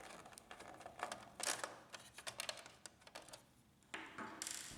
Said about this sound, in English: Remove the screws of the metal cover of the sensor.